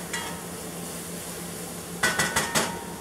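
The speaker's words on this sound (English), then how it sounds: "I'm browning some ground turkey" Ground turkey browning in a pan for spaghetti: a faint steady sizzle under quiet kitchen noise, then four quick rhythmic scrapes and taps of a utensil against the pan near the end.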